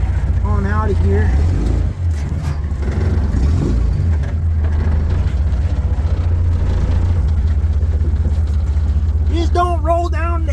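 Willys jeep engine pulling through snow off-road, a steady low rumble held close and loud throughout, with someone speaking briefly at the start and end.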